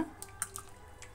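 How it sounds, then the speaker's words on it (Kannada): Water poured into a cooking pot of toor dal rasam with crushed garlic paste and tomato, heard as a few short, faint splashes and drips over a quiet kitchen background. "ನೀರು."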